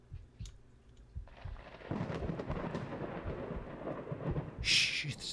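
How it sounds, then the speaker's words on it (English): Thunder rolls through a horror video game, a deep rumbling that swells and lingers for several seconds with crackling texture, ending in a brief bright burst, with no talking. "Shh, it's thunder."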